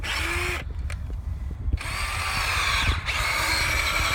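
A power drill bores into heavy clay soil, its motor whining loudly and steadily, cutting out briefly twice and then spinning back up, close and dominant throughout.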